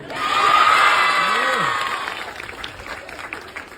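Audience clapping and cheering for Jackson at a film promotion event, a loud burst of crowd applause with whoops that swells early, then thins and fades out, with a brief voice in the middle.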